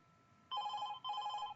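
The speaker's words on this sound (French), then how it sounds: "C'est son téléphone fixe." A landline telephone rings in a living room during a stage comedy, giving two clear electronic rings separated by a short gap, close and distinct over a quiet background.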